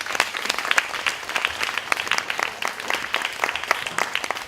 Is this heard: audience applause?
yes